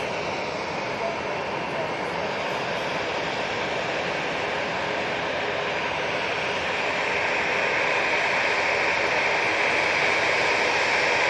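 An EasyJet passenger jet at Manchester Airport gives a loud, steady engine roar that builds gently toward the end, with faint voices talking underneath.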